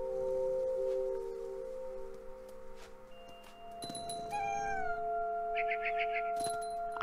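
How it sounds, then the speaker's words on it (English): A cat named Molly meows in the video game What Remains of Edith Finch, a few drawn-out, rising and falling cries close by over a steady, quiet tonal game ambience. "I'd be scared too if a cat was coming after me."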